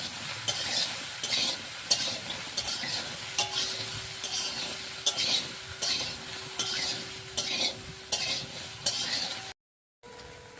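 A spoon stirs jujube pickle in a frying pan, scraping and clinking in a steady rhythm over a bright, constant sizzle, close by, and it stops suddenly near the end.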